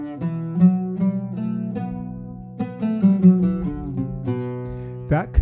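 An instrument plays the Kurdi tetrachord of a maqam scale as a sequence of sustained, clearly separated melodic notes stepping through the scale, with a brief flourish at the end.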